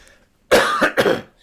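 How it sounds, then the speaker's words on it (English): A man suffering from a cold coughs close by: a sharp hacking burst followed by a second shorter cough, then quiet. "I've still got that cold and just a bit of a cough."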